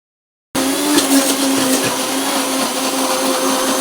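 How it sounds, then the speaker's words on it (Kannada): A kitchen mixer grinder runs steadily, grinding ripe jackfruit with rice in its jar, a loud continuous whirring that starts abruptly after a short silence and holds at a constant level throughout. "ಫಸ್ಟಿಗೆ ಸ್ವಲ್ಪ ನಾವು ಹಲಸಿನ ಹಣ್ಣನ್ನು ರುಬ್ಬಿಕೊಳ್ಬೇಕಾಗ್ತದೆ, ಮತ್ತು ಅಕ್ಕಿಯನ್ನು ಹಾಕಬೇಕು."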